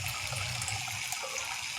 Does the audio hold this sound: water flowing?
yes